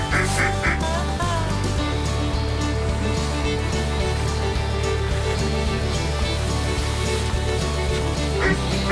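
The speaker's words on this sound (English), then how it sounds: "And we start seeing ducks. We got some teal zipping around" Teal ducks quack and call during a duck hunt, brief nasal calls over a steady backdrop of loud music, with no clear talk.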